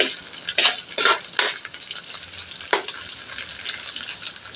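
Bitter melon (ampalaya) dropped into a hot pan, with a few sharp bursts of sizzle and stirring near the start and later a steady, quieter crackle of frying close by.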